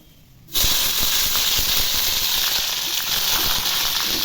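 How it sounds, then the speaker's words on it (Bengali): Drumstick (sajna) stalks dropped into hot oil, a loud sudden sizzle that bursts in after a quiet moment and hisses steadily with crackling pops, close by. "এখন এই সজনি ডাঁটাগুলো একটু ভেজে নেব।"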